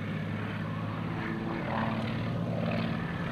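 Aerobatic propeller plane Samson at the 2004 AirPower Over Hampton Roads airshow, a steady droning engine roar passing at moderate distance, swelling slightly toward the end with no talk over it.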